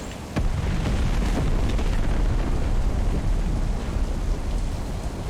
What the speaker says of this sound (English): I haven't seen a good explosion in a very long time.